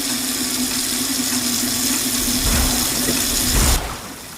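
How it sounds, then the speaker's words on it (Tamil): Water runs steadily from a sink tap with a constant hiss, then the flow cuts off near the end. "அந்த சிங்க் டேப்பை ஓப்பன் பண்ணி தண்ணியை எடுத்து மூஞ்சியில் அரைஞ்சிக்க ஆரம்பித்தான்"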